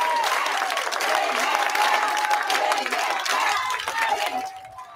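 A crowd cheers and claps inside a school as the superintendent rises to speak. The dense applause and shouting stay loud and steady, then fade out near the end.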